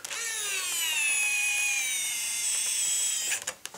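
Battery-powered drill driving in a screw to fit the tail of an SC10 Sport Cub, a close whining motor held for about three seconds, then stopping with a few short clicks.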